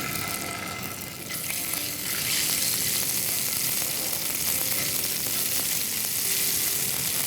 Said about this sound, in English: Alright, so now the oil is hot enough. First goes in just half of the paste that we had made,